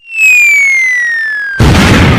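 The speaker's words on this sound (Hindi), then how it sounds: "एक पटाखा यहीं जलाता हूँ" A firecracker set off indoors gives a loud, falling whistle lasting over a second, then breaks into a sudden harsh burst of crackling noise at close range.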